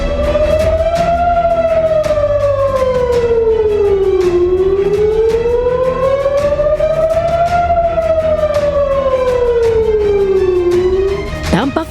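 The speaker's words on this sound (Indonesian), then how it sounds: "Suara sirene yang tak kunjung berhenti adalah alarm untuk warga agar segera mencari tempat" A loud air raid siren wails continuously, its pitch slowly rising and falling in long sweeping cycles.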